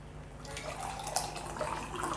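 Cooking oil poured into four glasses during a Kangen water demonstration, a soft trickling liquid pour with faint dripping, continuous and fairly quiet, heard alone without talk.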